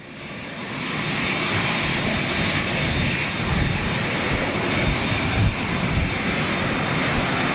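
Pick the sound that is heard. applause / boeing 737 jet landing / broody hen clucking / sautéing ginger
boeing 737 jet landing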